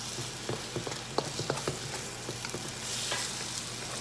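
Scrambled eggs fry in a wok with a moderate hiss, punctuated by light scrapes and taps of a spatula as they are stirred, and the sizzle swells briefly near the end.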